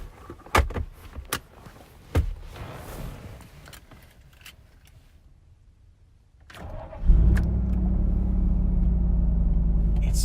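A cheap, worn Cadillac Allante is started up close. A few sharp clicks and knocks come first, then a quiet pause, then the engine cranks and catches into a steady, loud idle rumble that continues to the end.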